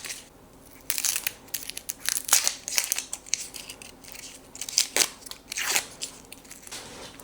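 A plastic sausage package is torn open by hand, with crisp, irregular crinkling and crackling bursts close to the listener.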